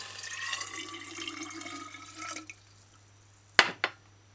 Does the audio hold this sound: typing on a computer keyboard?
no